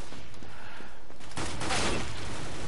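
Gunfire in the video game CS:GO Arms Race, a loud, dense rattle of shots that swells into a strong burst near the middle of the short stretch.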